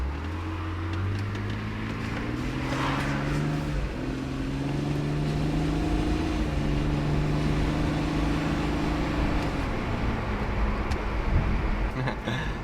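A BMW E46 all-wheel-drive wagon drives along the road, its engine a steady low drone with rising and falling tone as it changes speed, heard from inside the cabin with road rumble and no talk.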